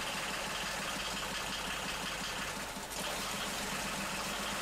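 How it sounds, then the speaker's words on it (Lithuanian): A Yanmar 2310 mini tractor idles with a gear engaged but does not move because of a hydraulic fault, giving a faint, steady low diesel drone with no voices. "Dabar va parodau, kad įjungiu bėgį ir traktorius nevažiuoja"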